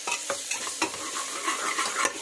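Spiced masala with rice sizzles and fries in a pan while a spoon stirs it, a steady close crackle broken by repeated scraping strokes.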